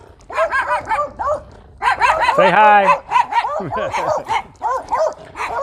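Dogs in a gated residential community bark and yip close by in rapid, overlapping bursts, with a person speaking briefly among them.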